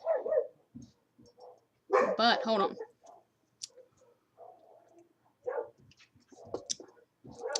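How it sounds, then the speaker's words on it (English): Dogs bark a few times in the distance, sharp yelps rising over someone speaking close by, with intermittent clicks between phrases. "Somebody's up there upsetting the dogs."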